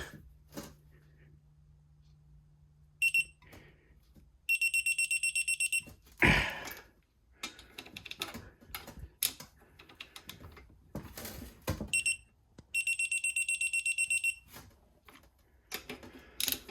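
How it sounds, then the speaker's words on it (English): Several bursts of high electronic beeping during a Honda GX270 engine rebuild, some short and single, others rapid repeated trains, with clicks and tapping sounds in between. "you're gonna hear a beep"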